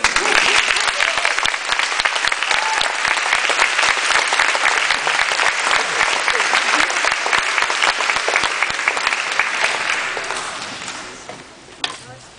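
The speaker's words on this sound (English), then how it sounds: "Let's clap again" Loud, sustained applause from a large audience greets an eighth-grade graduating class at a school ceremony, dense steady clapping with occasional voices that fades out near the end.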